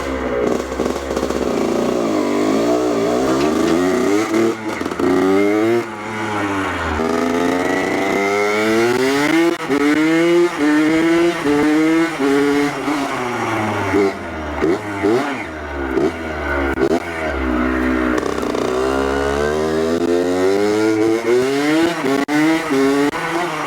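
A Honda XR75 motorcycle engine runs noisy and smoky with oil collected in the crankcase, revving up and down repeatedly in a close, loud, wavering drone with no talking.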